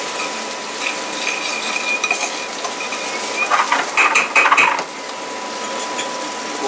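Shallots sweating in butter in a frying pan, a soft continuous sizzle with a brief burst of utensil scraping and clinking near the middle, close and steady, no talk.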